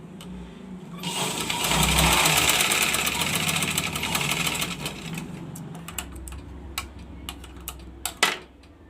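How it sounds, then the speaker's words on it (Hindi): A domestic sewing machine stitching a simple blouse runs in a steady mechanical whir, louder in the first half, then gives way to scattered light clicks and taps near the end, with no talking. "इस तरह से रखकर सिलाई लगानी है।"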